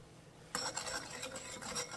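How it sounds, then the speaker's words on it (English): Whisk scraping briskly through a sauce with white pepper in a bowl, a dense run of rapid metallic stirring strokes that starts abruptly and carries on close and steady. "Make sure it mixes well together, or you can use your whisk"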